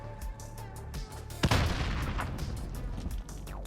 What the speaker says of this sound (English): I'm gonna nade boost myself.